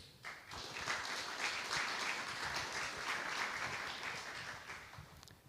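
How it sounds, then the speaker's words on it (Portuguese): An audience at a course on property leasing law applauds a guest, a sustained, even roar of many clapping hands heard at a distance and fairly faint overall. "Eu peço uma salva de palmas para ele."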